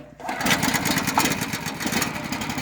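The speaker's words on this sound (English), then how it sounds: "Put our choke on, engine switch on, give it a crank." A small gas engine on an EZ Boardwalk Jr. sawmill catches after a crank and runs at a steady, buzzing idle, close and fairly loud, with no talk over it.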